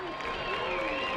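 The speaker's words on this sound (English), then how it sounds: "a big round of applause for our kindergarten through second grade." Applause from a crowd at a high school event, a dense, steady wash of clapping that runs through the whole short moment, with tonal sounds from the venue ringing over it.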